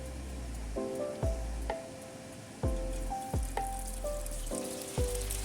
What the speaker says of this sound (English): So totally we added 11 pieces of tofu slices and separate them and deep fry for a few minutes